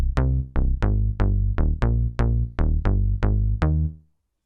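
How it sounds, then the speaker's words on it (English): A bassline sample plays back on an Akai MPC 3: about ten evenly spaced deep plucked notes with strong low end, each decaying quickly, loud and close, ending in silence. "Okay, we're just going to use this baseline sample that I have on here,"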